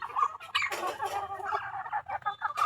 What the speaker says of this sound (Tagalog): Papakain tayo mga dyan, ating mga manok mga dyan. Yung ating white leghorn yan